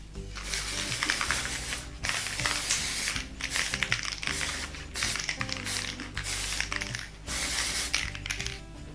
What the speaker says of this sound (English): And now I will use the spray paint a little bit on the white.